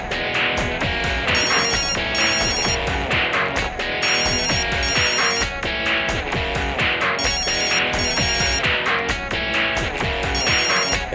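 Telephone ringing in a repeating pattern of bright, loud trilling bursts that continue steadily throughout without letting up.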